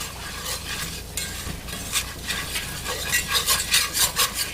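Flour is stirred into a roux in a pan, making a soft continuous scraping with a gentle sizzle underneath and a run of quicker rhythmic strokes toward the end, close and moderately loud with no voices.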